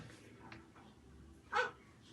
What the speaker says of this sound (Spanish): perrito. Muy bien.